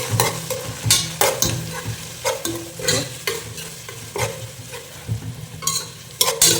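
Onions frying in hot oil for a fish curry: loud, close spluttering and crackling that comes in irregular bursts between stirs, with no voices.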